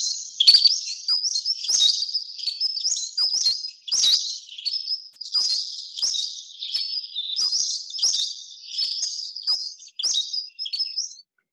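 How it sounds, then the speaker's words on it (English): A flycatcher repeats high, thin chirping calls in a steady series of short phrases, clear and fairly close, with no other sounds around it. "It's a flycatcher."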